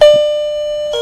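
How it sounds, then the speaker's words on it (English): Wireless doorbell chime set off by shorting the transmitter wires: a single loud, pure electronic ding that sustains evenly, then a second tone begins right at the end. "and we get the chime"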